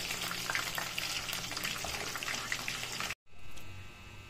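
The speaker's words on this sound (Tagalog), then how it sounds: "Ito naman yung aking piniprito." Oil sizzles and crackles steadily as dried fish fries up close, then cuts out abruptly before the frying resumes.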